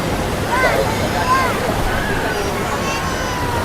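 Big ocean waves break on the beach at Carita, Anyer, making a loud continuous rushing wash with faint distant voices mixed in.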